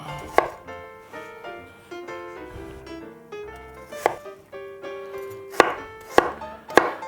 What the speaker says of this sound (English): Next we want to cut these into centimetre size cubes.